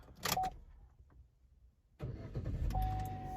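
A Buick Regal starts with a newly programmed flip key: a brief chime and clicks, a pause, then the engine cranks and catches into a steady close idle, with a warning chime tone running over it.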